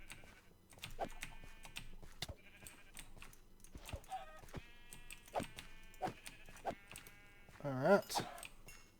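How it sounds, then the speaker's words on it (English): Sheep in Minecraft bleating a few times between soft keyboard tapping and clicks, the bleats short and clear, with a louder wavering bleat near the end. "There's a sheep down here."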